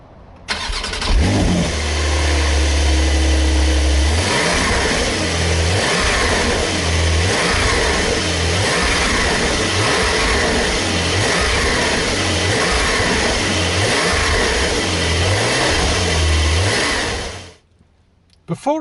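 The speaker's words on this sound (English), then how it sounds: "we'll start it up and get the noise from the engine" A Porsche 992 engine cranks and fires up, then revs repeatedly in rising and falling bursts before settling and cutting off near the end.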